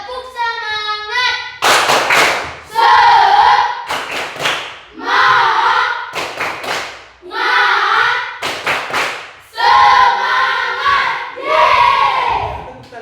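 Schoolchildren in a classroom perform a rhythmic spirit-clap icebreaker: a leader's voice calls out, then the class answers in loud bursts of sharp synchronized claps and shouted chants, repeating in a call-and-response pattern.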